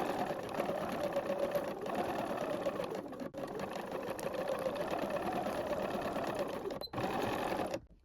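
A sewing machine runs steadily, stitching the shoulder seams of a Fibre Mood Jill dress one centimetre from the edge, with a continuous mechanical whir and only brief dips in the motor.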